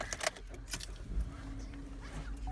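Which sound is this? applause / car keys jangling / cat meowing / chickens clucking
car keys jangling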